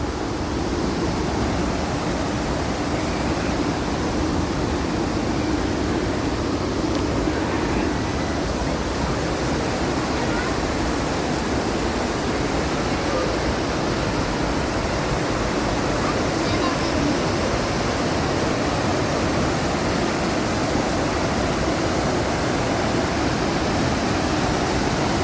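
Rushing water of the Raging River ride at Disneyland, a loud, continuous broadband roar like a waterfall that stays steady and close throughout.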